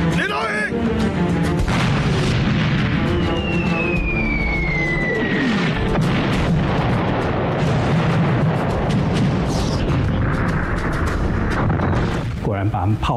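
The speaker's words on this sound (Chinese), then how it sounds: "果然把他们炮轰，把高升号给击沉" Naval cannon fire from Japanese warships sinks the troop transport Kowshing in the First Sino-Japanese War, a dense, loud dramatized battle of booming blasts, a whistling shell streak and chaotic rumble throughout.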